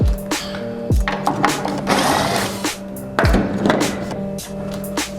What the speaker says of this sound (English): first step, remove the bolts that hold it in.